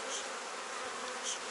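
Honeybees buzz around an open hive frame in an apiary, a steady close hum with no talk.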